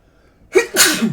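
A single loud, close sneeze with a sharp intake of breath before the burst, then silence.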